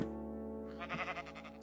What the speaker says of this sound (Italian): ciao pecora